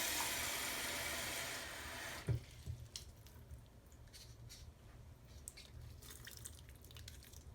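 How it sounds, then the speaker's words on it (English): Water leaks from a cracked cup, first a brief rush of running water, then scattered faint drips and small splashes patter irregularly at close range. "this cup seems to have sprung a leak because it made a mess"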